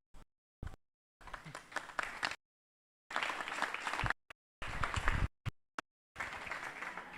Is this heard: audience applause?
yes